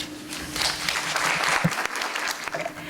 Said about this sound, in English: please give a round of applause to Georgie Fehringer